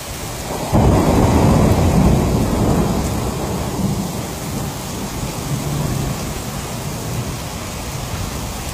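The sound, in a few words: thunderstorm with heavy rain in Jeddah, Saudi Arabia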